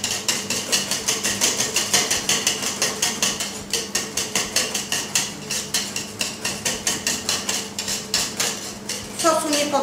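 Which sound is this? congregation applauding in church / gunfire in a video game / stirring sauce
stirring sauce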